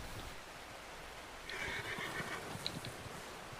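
A horse in Red Dead Redemption 2 arrives in the distance and gives a faint whinny over a steady wash of ambient game noise, with light hoofbeats underneath.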